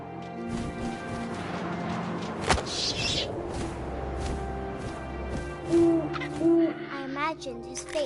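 In the video game What Remains of Edith Finch, an owl hoots in a few low, clear calls near the end, following wind, ambient game sounds and a sharp thump.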